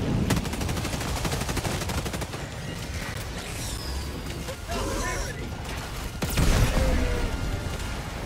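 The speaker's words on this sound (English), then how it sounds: "Requesting air support. Oh, no. Airstrike." Airstrike explosions in the Helldivers video game go off amid continuous gunfire, with a louder blast rolling in toward the end while players talk over the action.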